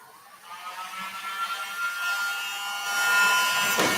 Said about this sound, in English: This is a paint stripper. You could use a hairdryer as well.